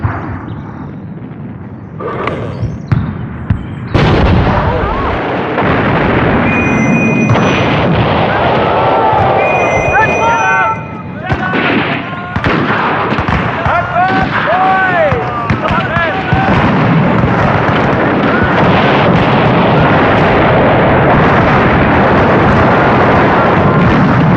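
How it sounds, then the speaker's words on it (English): A huge landmine detonates beneath enemy lines at dawn in a World War One battle scene, a sustained loud rumbling blast with crackling debris and distant artillery-like bursts, continuing as a dense roar with shouting voices mixed in. "A huge landmine planted directly under the enemy lines is the signal to attack."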